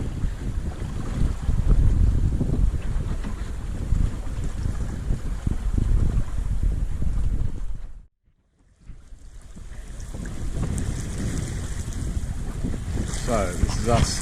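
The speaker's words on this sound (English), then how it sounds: "just a little bit of breeze picked up in the evening, and we're sailing nicely, goose winged, wind dead behind." A sailboat runs goose winged before an evening breeze off the Scottish west coast, heavy wind rumble and rushing water filling the sound, broken by a short near-silent gap before the wind and wash resume.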